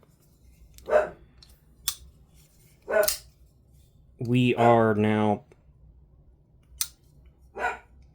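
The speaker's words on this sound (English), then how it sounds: "moving on to the dog's moment to voice his opinions. I mean, it is a sheepdog." A sheepdog barks in short loud bursts, several single woofs spaced apart and one sustained howling, whining stretch in the middle, close by, with someone briefly speaking.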